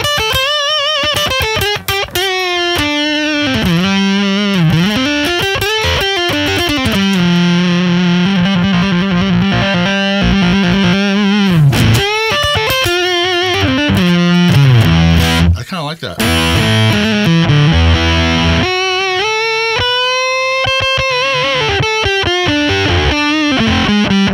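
Electric guitar through an affordable AZOR fuzz pedal, played as a loud, heavily saturated riff with sustained fuzzy notes, bends and slides, steady throughout with brief pauses.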